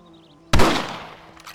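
A single loud rifle shot in the Western game Red Dead Redemption, a sharp crack that rings out and decays over about a second against a quiet background.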